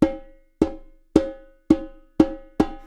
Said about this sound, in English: The last note in our sequence for now is just going to be an open tone with our hand.